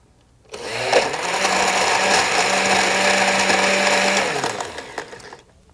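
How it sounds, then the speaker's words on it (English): A blender whirs through a buttermilk smoothie with sugar and ice, starting abruptly, holding a loud steady motor roar with rattling for about four seconds, then winding down. "Let's blend it all up."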